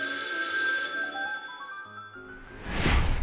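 An old telephone bell rings once with a bright, decaying metallic ding, then a second brief clang-like ring follows, close and clear with no talking.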